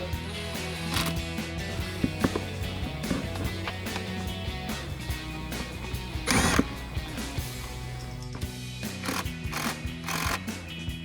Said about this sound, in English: We're going to use our 8mm socket on our 1/4" impact to tighten this up.